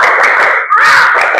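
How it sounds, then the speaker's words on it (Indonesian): A classroom of children performs the rhythmic 'tepuk semangat' spirit clap, a dense, loud wash of clapping and young voices chanting together that dips briefly midway before surging again. "Sekali lagi, tepuk semangat."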